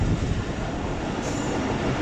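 Passenger train running from Quetta to Chaman, heard as a steady, loud rolling rumble and rattle from on board, with no talk over it.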